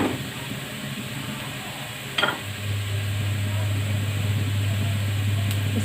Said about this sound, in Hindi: थोड़ा सा और इसको फ्राई करते हैं।